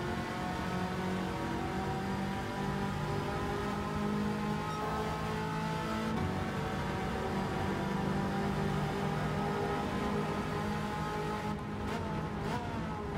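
Race car engine in Gran Turismo 7 at the Deep Forest circuit, a loud, steady high-revving drone with rising and falling pitch sweeps as it accelerates through gears, continuous throughout with no talk.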